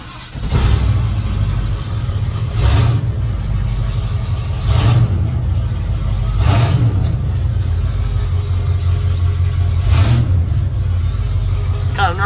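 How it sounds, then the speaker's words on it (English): A 1978 Ford F100 pickup engine runs with a steady low rumble, punctuated by several short revs at regular intervals. "Let's see if she wants to fire up"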